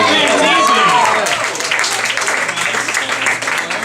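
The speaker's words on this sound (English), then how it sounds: "Let's give a round of applause for Steve Rancisi" A late-night comedy show's studio audience applauds a guest comedian walking on, loud clapping and some cheering that starts under a host's voice and continues steadily.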